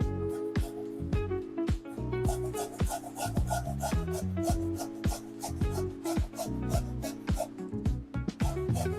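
A carrot is rubbed against the large holes of a grater in quick, repeated rasping strokes, close and steady, over background music.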